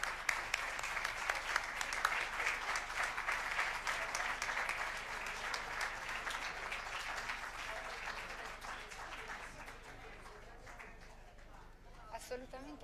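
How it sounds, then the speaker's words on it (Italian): An audience applauds steadily to welcome a physics professor at a talk about the Gran Sasso National Laboratories, a dense, sustained clapping that gradually thins and fades toward the end. "Accogliamola con un forte applauso."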